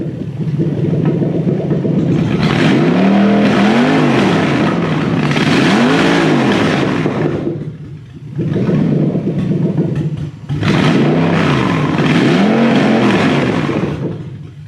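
Loud Toyota 3UZ V8 engine with Haltech Elite 2500 management roars continuously, rising and falling in pitch as it revs repeatedly, with brief dips between bursts of throttle.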